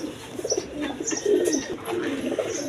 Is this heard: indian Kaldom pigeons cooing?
yes